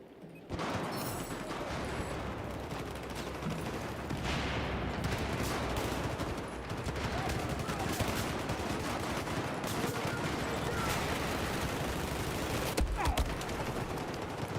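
An F2000 bullpup assault rifle fires in Battlefield 4, mixed into a steady, dense barrage of battlefield gunfire that runs continuously at moderate level, with occasional sharper shots and faint talk.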